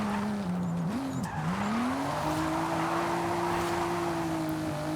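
Street car tires skidding while drifting in Forza Horizon 5: a steady, moderate tire squeal over a droning engine whose pitch dips and climbs, then holds level as the slide continues, heard on its own.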